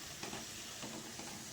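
Puris frying in hot oil, giving a steady, quiet sizzle and hiss with faint bubbling throughout, heard alone at close range.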